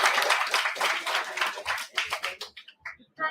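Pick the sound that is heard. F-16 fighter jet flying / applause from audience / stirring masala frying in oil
applause from audience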